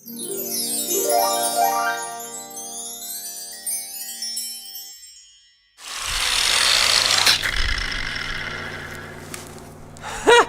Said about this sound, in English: maybe an angle grinder could just cut that.